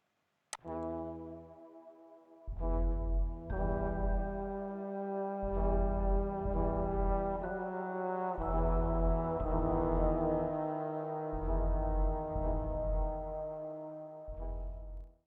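Deep, heavy cinematic brass chords without an exciter swell and sustain in a slow pattern, full low end with warm tones, no voices.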